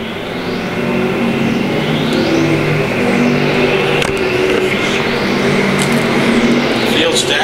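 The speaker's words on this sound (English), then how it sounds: "Vanover out front, laps winding down here in our Heinen Repair Service IMCA Stock Car, A Main." IMCA stock cars racing at Thunder Hill Speedway during an A-Main feature, a steady loud roar of several engines running continuously throughout, with rising and falling pitch as cars pass, under an announcer's voice.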